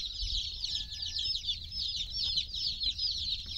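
A large batch of newly arrived baby chicks, including Buckeye, Blue and Americana breeds, peep continuously in a dense high chorus of overlapping cheeps, close and steady with no talk.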